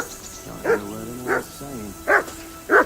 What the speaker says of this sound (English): mutt of yours to stop barking, will you?